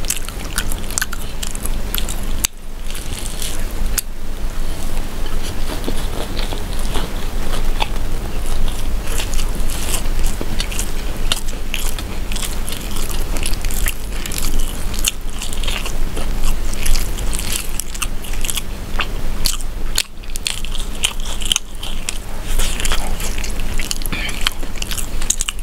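Someone eats crispy fried brinjal and egg brinjal fry with rice, with loud, close crunching bites and wet chewing that run continuously without talk.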